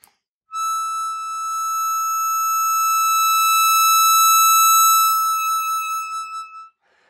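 A harmonica holds a single soft blow note on hole 8, a pure steady tone that swells gradually louder before wavering slightly and cutting off, played alone.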